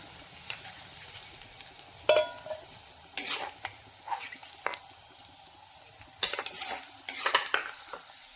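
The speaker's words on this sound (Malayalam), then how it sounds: "ഇനി നമുക്കിതൊരു പാത്രത്തിലേക്ക് കോരി മാറ്റാം" Utensil scraping and clinking against a pan and bowl as fried garlic is scooped out of hot oil, several sharp metallic taps and scrapes at irregular intervals over a faint sizzle, close and fairly loud.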